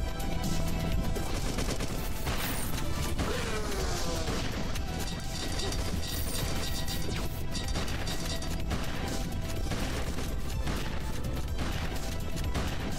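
Shotgun blasts in the video game Beyond Sunset fire in a dense, loud, continuous barrage mixed with crashes and action effects, with no clear pauses between shots.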